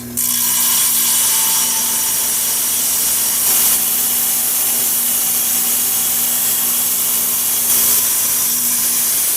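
A rock saw cuts through Agua Nueva vein agate with a loud, steady, high grinding whine that holds throughout, with slight surges in pitch as the blade bites.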